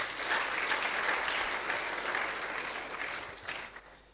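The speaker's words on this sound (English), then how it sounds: "Can we clap for her?" An audience claps at a student research club launch, a dense, even patter of many hands that holds steady for several seconds and tapers slightly toward the end, with no voices over it.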